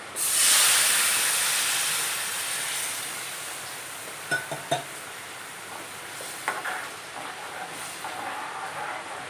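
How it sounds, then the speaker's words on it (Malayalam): Dried fish curry gravy, thinned with water, comes to a boil in a pan with a steady soft hiss and bubbling, broken by a few faint clinks partway through. "നമ്മുടെ ഗ്രേവി ഒന്ന് തിളച്ച് വന്നിട്ടുണ്ട്"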